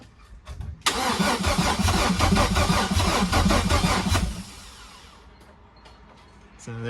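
A Chevy V6 swapped into a Subaru WRX cranks for several seconds with a loud, rapid rhythmic starter chug close by, then falls quiet to a faint hum as the engine begins to catch.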